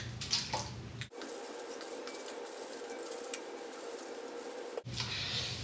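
Water is misted onto hair in loc styling, a steady, close hiss of spray lasting several seconds between quieter handling rustles.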